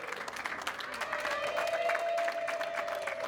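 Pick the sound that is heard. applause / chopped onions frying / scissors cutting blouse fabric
applause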